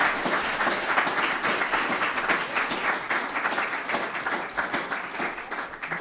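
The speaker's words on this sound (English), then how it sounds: "can we give all of our debaters a big round of applause for all the work they put in?" An audience at a student debate gives the debaters a full round of applause, steady dense clapping from a room of people for several seconds.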